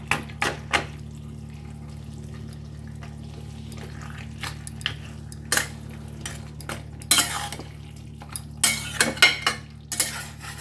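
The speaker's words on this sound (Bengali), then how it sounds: "মাছের মাথাগুলো এবার একটু মিক্স করে দেবো এর মধ্যে" Fish heads mixed into Malabar spinach greens in a pan, with a steady run of spoon scrapes and metal clinks, sparse at first and then clustered, close up over a low steady hum.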